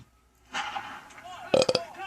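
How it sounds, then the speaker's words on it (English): A loud, sharply defined belch stands out near the end, after some quieter talk and low rumbling at the start. "that was a very defined belch"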